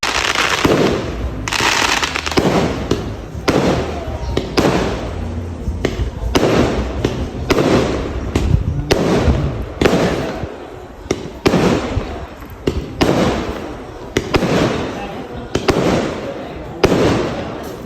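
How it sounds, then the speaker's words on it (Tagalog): Fireworks display at the Altamare beach resort, with a rapid run of sharp booming bursts and crackles going off one after another for the whole stretch, while voices murmur faintly underneath. "nagulat nga kami kasi merong pa fireworks yung Altamare Resort"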